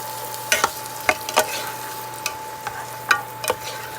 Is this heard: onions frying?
yes